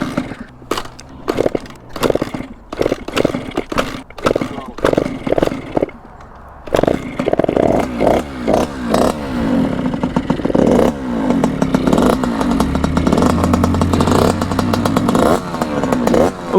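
A gas-powered Surron motorcycle is kicked several times with sharp rhythmic thumps, then the engine catches and idles with a rough popping rattle before revving up, loud and close.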